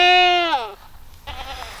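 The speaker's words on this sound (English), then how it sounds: "The goats over here look good too." A single goat on a farm gives one loud, close, wavering bleat that falls off, followed by a quieter second bleat in the background.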